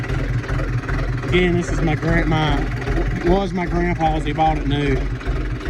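A 1969 Case 770 golden demonstrator tractor engine with slight blow-by idles steadily as a low, continuous rumble beneath someone talking throughout.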